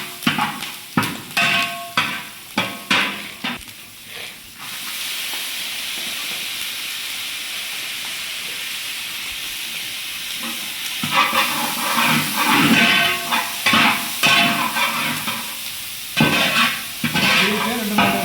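Carrots and beans sautéed in a hot pan for a wedding-style mixed vegetable thoran, with a steady sizzle and repeated stirring scrapes, louder bursts of stirring at the start and again later, no talk.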